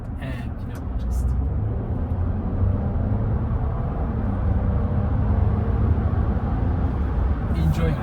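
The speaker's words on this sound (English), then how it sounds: "enjoy the sound of the car, enjoy how it pulls you back to the seat" An Audi Q7 55 TFSI e plug-in hybrid with a V6 engine accelerates, a steady low engine drone heard from inside the cabin with road rumble, continuous and fairly loud.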